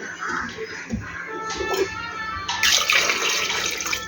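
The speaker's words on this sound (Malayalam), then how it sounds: "കുറച്ചും കൂടി വെള്ളം ഒഴിക്കുക" Water poured into a pot of palmyra sprouts before pressure cooking, a close splashing, gurgling pour with light handling clatter, growing fuller and brighter toward the end.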